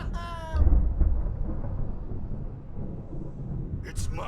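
Low, rolling thunder rumbles through a stormy scene in the video game Alan Wake, loud at first and then settling into a steady windy roar, with a voice briefly heard at the start.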